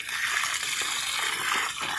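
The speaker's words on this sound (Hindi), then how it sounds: "तो इस तरह मैं उसको पानी लगा रहा हूँ।" Running water pours steadily onto small garden beds while plants are watered, a constant close splashing hiss with no talking.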